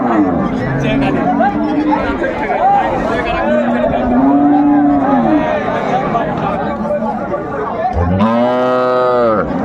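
Dairy cow and calf at Raniganj cattle market in Dinajpur, long drawn-out moos rising and falling under steady crowd chatter and talk, with a loud, close moo near the end.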